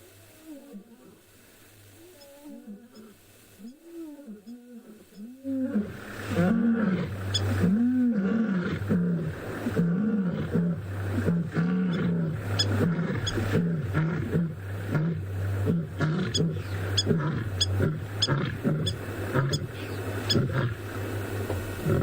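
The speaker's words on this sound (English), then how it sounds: "There is nothing like a roar of a lioness or a lion. that was a beautiful chorus by these two" Two lionesses roar in chorus on an afternoon safari, deep rhythmic grunting calls starting alone and softer, then swelling loud and overlapping into a dense, sustained bout close by, with a vehicle engine idling underneath.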